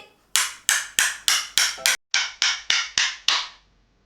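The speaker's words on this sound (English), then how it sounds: "Let's play with the hammer toy." Ten sharp knocks of a toy hammer striking in a steady rhythm, each crisp and close with a short ringing decay.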